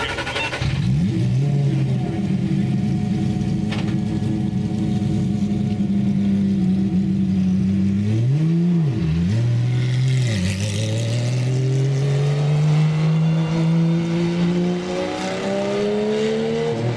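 A race car driven by Memo Gidley pulls away, its engine droning at a steady pitch, dipping and rising through revs midway, then climbing steadily as it accelerates off, loud and continuous with no speech.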